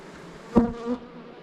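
Honey bees buzzing around an opened beehive during spring queen grafting and splits, a short close buzz swelling once sharply and again more softly before fading.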